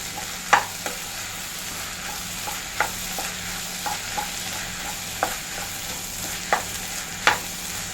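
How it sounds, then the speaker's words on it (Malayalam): Spoon stirring egg into idli upma in a frying pan, with soft scraping strokes and several sharp clacks against the pan over a low, steady sizzle. "സെൻറ്റർ ഭാഗത്ത് ഒഴിച്ച് ഇങ്ങനെ ഇളക്കുന്നത് നമുക്ക് എല്ലാം കൂടെ കൂട്ടി നല്ലപോലെ ഒന്ന് മിക്സ് ചെയ്യാം"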